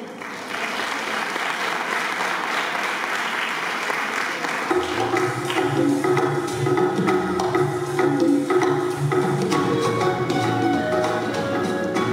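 Loud, sustained applause from a school festival audience greeting a third-grade class about to sing, filling the clip with dense clapping; near its middle, a low musical accompaniment begins underneath.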